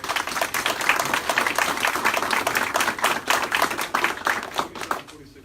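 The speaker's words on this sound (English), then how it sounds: "let's give a little round of applause for those folks." An audience claps for staff at an event announcing Limestone joining the South Atlantic Conference, producing steady, dense applause throughout that fades out at the very end.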